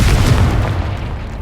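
A Confringo fire spell blast in Hogwarts Legacy, a single deep booming explosion with a heavy low-end impact that fades out over about a second, loud and close.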